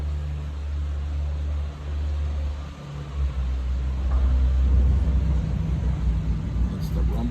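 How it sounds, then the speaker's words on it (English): Deep, steady low rumble of the Erie Canal lock doors opening, building after a few seconds into a continuous heavy drone with faint mechanical hum, heard from nearby outdoors. "that's the rumble of the doors."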